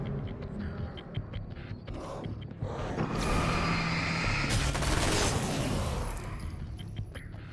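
Gunshots from Alan Wake's American Nightmare, a third-person action game, crack through a creaking, mechanical backdrop before a louder sustained blast builds and fades, with no talking.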